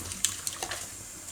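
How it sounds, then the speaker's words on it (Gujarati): Soaked rice goes into a pot of boiling water on a home kitchen stove, giving a soft watery splash with a few sharp clinks over a steady bubbling hiss, quiet and without speech. "ઉકળતા પાણીમાં પલાળેલા ભાત નાખીને"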